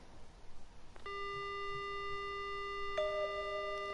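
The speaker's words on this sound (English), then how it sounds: "There's a dial tone." A sustained electronic telephone tone sounds from a handset in the Death Mark video game, starting abruptly and holding steady with a brief shift partway through, faint and alone without speech.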